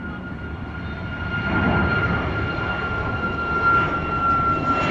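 A commercial jet engine roars at Montego Bay, Jamaica, a steady broad rumble with a sustained whine that swells slightly, heard from a distance with no talk over it.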